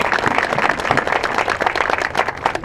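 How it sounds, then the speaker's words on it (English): A crowd applauds volunteers at an Out of the Darkness community walk, steady clapping from many people at moderate loudness throughout. "So all of you, raise your hands so people can give you a round of applause for your hard work."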